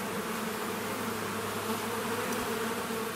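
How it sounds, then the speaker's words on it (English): Wild bees from a colony buzz close by in a steady droning hum, several insects overlapping with faint wingbeat pitch shifts. "See, this is a typical size of a wild bee."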